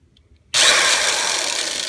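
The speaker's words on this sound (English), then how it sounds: "You can see I'm drilling in the hole." A corded power drill starts abruptly and runs at a steady high whine, loud and close, after a brief quiet start, drilling into an open exhaust valve on a 993 Porsche 911 C4.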